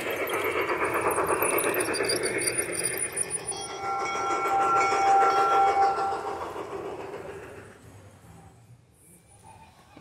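Model trains running through an outdoor train garden, a steady rolling rumble with clickety-clack and brief high whistle-like tones, gradually fading toward the end; no talking.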